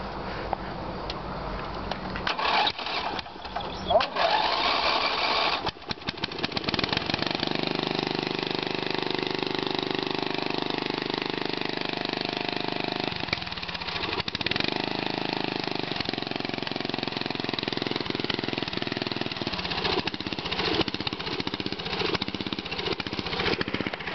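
A small vehicle engine, choked and cranked for its first start, catches and runs steadily at a loud, close idle with a slightly uneven, rough beat.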